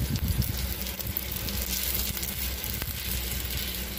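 Lakotina holige frying in oil in a pan, a steady close sizzle with a soft crackle that holds evenly throughout and no talking.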